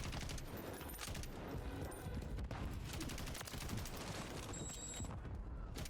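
Rapid sustained LMG fire in Call of Duty Modern Warfare III zombies mode, a dense continuous stream of loud shots lasting about six seconds, with no speech.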